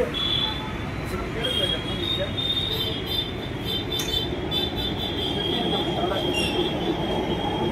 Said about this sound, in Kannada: ಮೆಟ್ರೋ ತೋರಿಸಿ. ಮೆಟ್ರೋ ಇಲ್ಲೇ ಹೋಗುತ್ತೆ